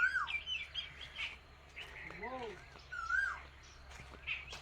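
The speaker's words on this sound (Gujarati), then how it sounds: "કેવી સરસ કોયલ બોલે છે." An Asian koel sings near a farm field, its rising, repeated calls clear and fairly close over a low steady hum, with other faint bird chirps and a soft voice in the background.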